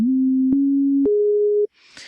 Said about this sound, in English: that's just going to be a normal sine wave